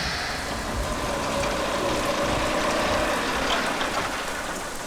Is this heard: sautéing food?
no